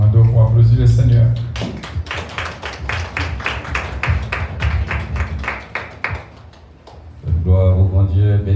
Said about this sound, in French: Nous demandons pour applaudir le Seigneur.